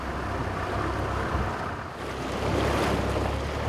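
A safari vehicle crosses deep water in the Okavango Delta, with a steady rushing wash of water and wind noise, continuous and fairly loud, swelling toward the end.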